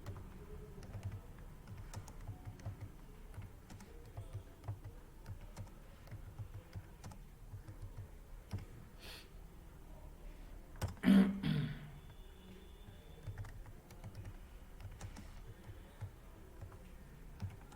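Quiet, steady typing on a computer keyboard, with rapid light key clicks entering commas and digits into an MS Word document, close and continuous with one louder tap cluster midway.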